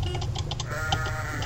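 Sheep bleat in the video game Crossy Road, a few short electronic bleats over a steady game background.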